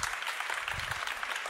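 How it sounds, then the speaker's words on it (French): Audience applause for a drummer after a performance, a steady wash of clapping from a crowd lasting throughout, fairly faint and distant, with no talk over it. "vous pouvez l'applaudir"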